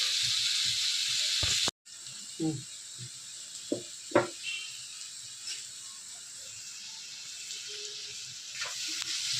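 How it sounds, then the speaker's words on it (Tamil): Chopped onions and green chillies sauté in a hot pan, giving a steady hissing sizzle with scattered clicks and knocks of stirring, briefly broken by a short silence. "ஒரு ரெண்டு வெங்காயம் பொடியை நறுக்கி வச்சுருக்கேன் அதுவும் ரெண்டு பச்சை மிளகாவும் போட்டுக்கிறேன் கொஞ்சம் வதங்கட்டும்"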